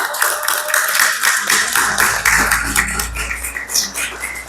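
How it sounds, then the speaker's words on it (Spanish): An audience at a conference of midwives claps steadily for a few seconds, a dense close patter of hands that holds even and then thins slightly toward the end. "Un aplauso, por favor."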